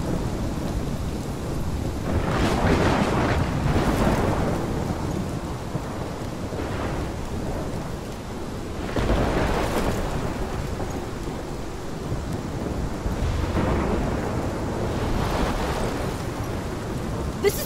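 Heavy rain pours steadily in a Life is Strange thunderstorm while low rolling thunder swells repeatedly, several long rumbles rising and fading over the downpour.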